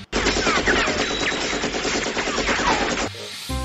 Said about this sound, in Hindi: यार इतनी देर से मैं गोलियां चला रहा हूँ, कोई फर्क नहीं पड़ा